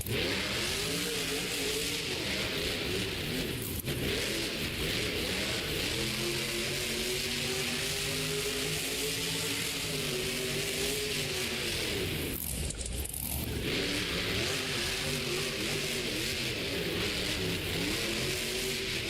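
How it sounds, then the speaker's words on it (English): Jurassic Attack monster truck racing in a Monster Jam World Finals qualifying run: a loud, continuous engine roar that revs and surges throughout, with a brief dip near the end as the truck turns, then powers back up. "Dalton Widener bringing out this lovely body. Much older Jurassic Attack body. Oh, and he does that final turn perfectly"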